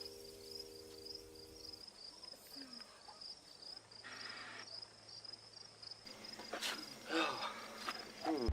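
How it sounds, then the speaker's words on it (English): Crickets chirp in quick repeated pulses through a quiet night scene in a Nollywood film, faint and steady, with other soft sounds shifting underneath. "Crickets are constantly chirping."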